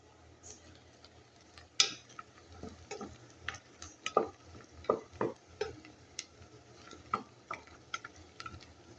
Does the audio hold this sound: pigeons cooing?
no